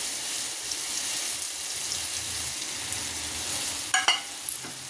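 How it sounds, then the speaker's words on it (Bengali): Mango cooking in a pan with ground spices, sizzling steadily with a constant frying hiss, and a couple of sharp scrapes of stirring near the end. "একটু ভালো করে নাড়াচাড়া করে নেব"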